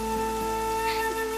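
Steady rain falling outdoors, a constant broadband hiss heard throughout under a sustained musical score, with no voices.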